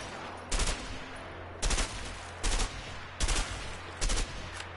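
Bursts of gunfire in the video game A Way Out, five short loud volleys of rapid shots spaced about a second apart over a low steady game hum, no talking.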